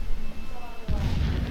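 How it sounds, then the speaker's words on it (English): A single muffled explosive blast from a mining site in Horizon Zero Dawn thuds in at moderate distance, rumbling briefly over quiet game ambience. "The blasting should cover any noise you make."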